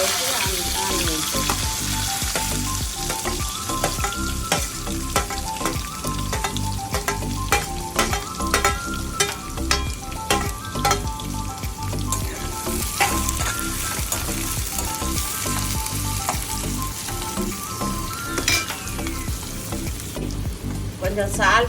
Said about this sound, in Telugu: మంచిగా ఉల్లిపాయలు మంచిగా ఫ్రై అవుతాయి